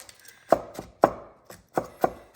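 Cucumber chopped for raita on a cutting board: five crisp, close knife strikes in an uneven rhythm, with nothing else heard between them.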